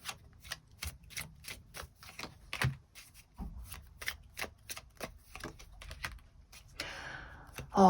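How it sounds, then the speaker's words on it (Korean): Tarot cards shuffled and drawn close up: a rapid, even series of crisp flicks and taps, followed by a softer rustling slide and a final louder thump, with no voice. "조언의 카드 몇 장 더 뽑아보도록 하겠습니다"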